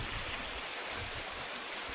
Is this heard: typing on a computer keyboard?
no